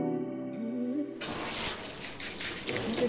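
Running tap water pours steadily and loudly after a quiet start, rinsing shampoo off hands while a small white Maltese dog is bathed in a sink or tub.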